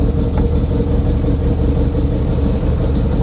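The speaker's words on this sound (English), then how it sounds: "Handbrake off, clutch down, into reverse," An MG MGB GT running steadily while reversing, a loud, close, continuous engine hum with a gentle throttle rise and no voices over it.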